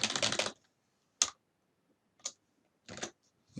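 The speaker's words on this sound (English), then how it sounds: "quick typing into here" Quick bursts of typing on a computer keyboard while editing a Stata do file: a dense run of key clicks, then a few short separate clusters of taps, close and clear with no talking.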